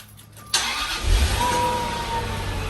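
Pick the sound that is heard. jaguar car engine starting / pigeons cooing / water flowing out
jaguar car engine starting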